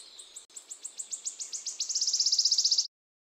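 Cikrak daun leaf warbler singing alone: a quick series of high, thin chirps that speed up into a rapid, steady trill before stopping abruptly, clear against a quiet background.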